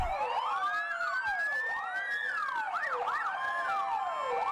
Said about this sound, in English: I love the sirens. The siren cadence is very, like, whoa, right? Like, very up and down, like, wavy.